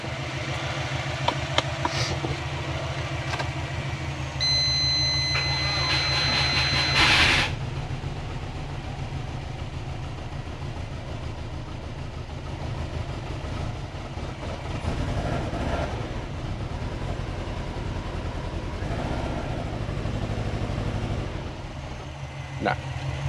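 A Subaru Forester that will not start, suspected of being flooded, cranks and labours in a long, steady mechanical drone with a brief high whine partway through, heard close up.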